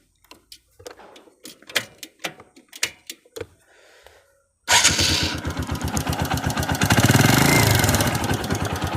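A second-hand motorcycle is handled first, giving a few scattered clicks and knocks. Then its engine fires up abruptly and idles loudly and close by with a steady pulsing throb that swells slightly partway through.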